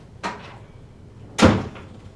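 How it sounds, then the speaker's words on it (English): A single door swings shut in an office: a soft knock near the start, then a louder solid thud of the door closing about a second later, with a quiet room around it. "Close the door behind you."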